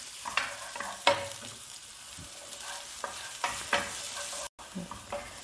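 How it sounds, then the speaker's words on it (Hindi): Sliced onions frying in hot oil in a pan, a continuous close sizzle broken by several sharp scraping stirs of a spoon against the pan. "प्याज को थोड़ा हल्का पिंक होने तक भूनेंगे।"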